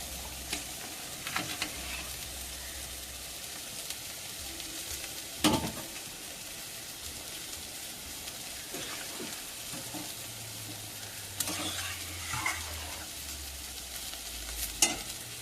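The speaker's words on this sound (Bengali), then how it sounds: "ঝোলটা ফুটে উঠেছে, এইবারে মাছগুলো দিয়ে দেবো।" Fish goes into a pan of boiling curry, giving a steady sizzle and bubbling, with occasional stirring clatters and scrapes that stand out above the constant frying noise.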